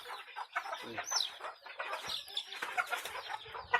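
Farm chickens cluck and chatter continuously at close range, several birds overlapping in busy, uneven bursts of clucks and squawks.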